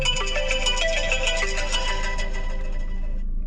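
A phone ringtone plays loud and steady through the car radio over Bluetooth in a Chevy Spark, a repeating melodic chime that fills the cabin for several seconds and then cuts off, with no talking.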